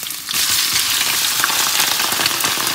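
Pork and kidneys frying in a pan, a loud, steady, dense sizzle that jumps up sharply just after it starts and holds at an even level, close by and with no voices.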